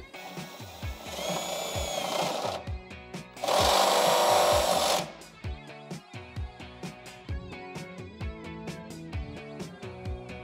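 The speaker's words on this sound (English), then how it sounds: "continue to drill this out" Power drill boring through the inner body metal of a Jeep Wrangler JK during a body cladding install, two loud sustained bursts of grinding whine separated by rhythmic knocking and ticking.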